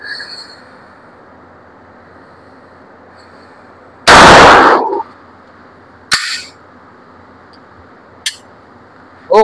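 An Armscor STK100 pistol fires reloaded rounds: one loud, sharp report followed by three more, each spaced a couple of seconds apart, over a quiet outdoor background.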